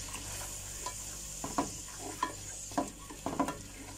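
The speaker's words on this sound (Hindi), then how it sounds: "देखें तो अब ये मसाला भी हमारा भून गया है" Masala being stirred and fried in a handi while making aloo tahari, with several scraping stirs over a low steady sizzle and no talking.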